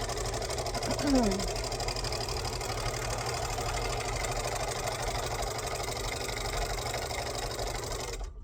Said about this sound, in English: And I'll sew it right across the folded twice turned hem.